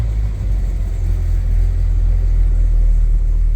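A 1994 Ford Ranger pickup with the 2.3L four-cylinder engine creeps along slowly, giving off a low, steady engine rumble that holds at a constant level, heard close from inside the truck.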